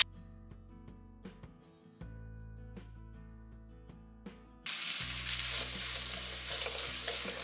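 Tomatoes and curry leaves sauté in a pan for a mutton masala, with a steady sizzle, stirring clanks and a brief burst of louder frying partway through, set under soft background music.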